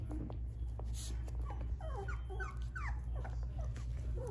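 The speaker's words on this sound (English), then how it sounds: "And they're starting to bark and talk." Doodle puppies whimper and yip in a string of short, high, wavering cries, close and fairly soft over a steady low hum, with no talking.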